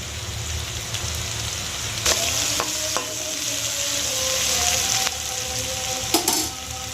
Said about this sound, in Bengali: পেঁয়াজটা খুব বেশি ভাজলে হবে না, যেন ব্রাউন না হয়